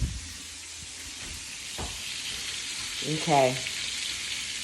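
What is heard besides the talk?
chicken frying on a stove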